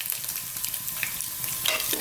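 Pork sausage frying in a pan, a continuous crackling sizzle with faint stirring scrapes, close and moderately loud, no one talking.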